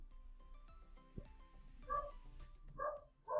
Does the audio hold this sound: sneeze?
no